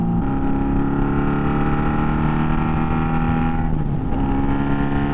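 A Honda Magna motorcycle engine chugs loud and close in low gear, a steady rhythmic throb that holds through the whole stretch, with a brief shift in pitch near the end.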